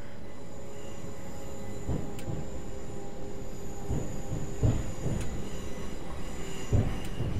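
A train crawling into a station at about 20 mph in the video game Train Simulator 2013, giving a steady rumble with periodic wheel clunks over the rail joints and faint squeals.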